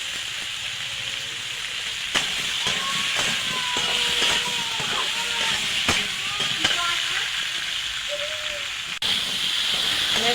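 Fish curry masala with raw tomato sizzles steadily in a pan, a constant close hiss and crackle. A voice talks over it.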